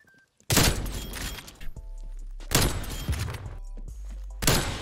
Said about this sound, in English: Boom, get sniped.